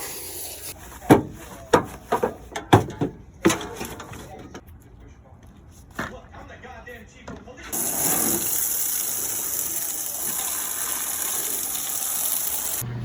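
An old station wagon is washed: after several sharp knocks and a moment of talk, a hose sprays water in a loud, steady hiss that runs unbroken to the end.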